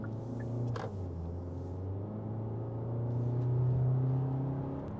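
A 2023 Hyundai Santa Fe accelerating, heard from inside as a steady low engine rumble and road drone that swells slightly midway, with no talking.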